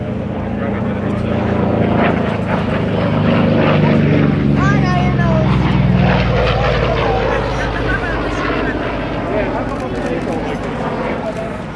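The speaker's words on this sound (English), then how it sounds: "Now please keep a remembrance in your ear of the sound of that radial engine." An F4U Corsair with its radial engine flies past at an air show demonstration, a loud droning roar that rises and fades as it passes, with an announcer talking over it.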